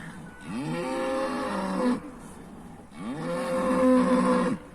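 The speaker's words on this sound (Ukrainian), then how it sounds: "Корівки мукають." Cattle near a pond on a hot summer day give two long, loud moos in a row, each lasting about two seconds with a short gap between, and no speech is heard.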